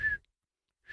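Two short, clear whistled notes, one at the start and one at the end, separated by silence, as a person imitates a bird call.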